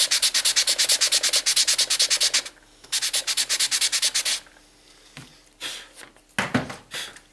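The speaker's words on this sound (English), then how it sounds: "Sanding on the back there to bring it down a bit" Sandpaper scrubs back and forth on wood in quick, even, close strokes: a rhythmic run of rasping passes, a short pause, a second burst, then a few slower, scattered rubs.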